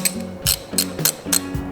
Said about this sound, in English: it's time to install the plugs back on the side of the motor and put the valve cover back on